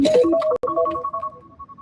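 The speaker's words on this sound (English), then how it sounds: "oh, my alarm's going off" A phone alarm rings out in a brief, loud electronic tone that sustains and then fades, with no talking over it.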